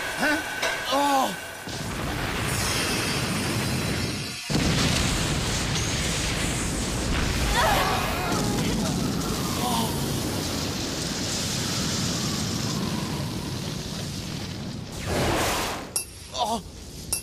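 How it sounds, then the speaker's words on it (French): Pegasus's star blast attack explodes during a Beyblade anime battle, a long roaring wall of crashing, shattering blast noise that rumbles on for many seconds, with voices shouting briefly at the start and near the end. "L'explosion stellaire de Pegasus n'aura pas été suffisante!"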